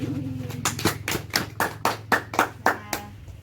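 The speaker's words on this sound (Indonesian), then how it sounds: "Tepuk tangan buat hari ini." A classroom of schoolchildren claps in a burst of about ten sharp, evenly spaced claps that ring out clearly over a low hum, with no talking.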